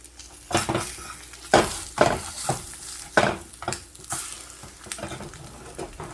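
Eggs fry in a pan with a close sizzle, while a utensil scrapes and clinks against the pan in repeated bursts.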